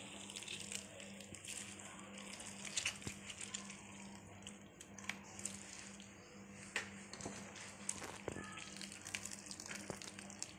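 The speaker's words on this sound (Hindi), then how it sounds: "हमने पूरा लौकी को किस लिया है, अब इसको हम निचोड़ लेते हैं।" Grated bottle gourd is squeezed by hand over a strainer in a home kitchen, letting out faint trickles and soft drips of water alongside quiet squishing and occasional light knocks.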